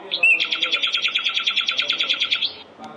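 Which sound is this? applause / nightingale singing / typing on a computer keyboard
nightingale singing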